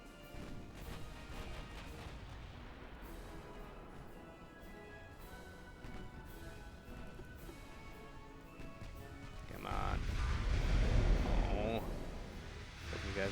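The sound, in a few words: naval artillery firing in Ultimate Admiral: Dreadnoughts video game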